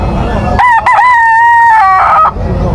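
A young gamecock stag, about six months old, crows loudly and close by in one full drawn-out crow with a brief clucking note just before it.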